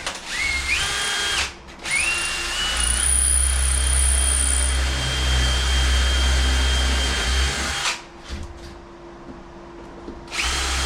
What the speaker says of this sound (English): you can drill all your fronts all at once